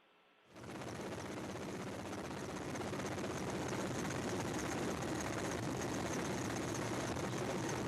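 A search and recovery helicopter near the Soyuz landing site in Kazakhstan starts up abruptly and then roars on as a loud, steady, dense rotor and engine drone, heard alone.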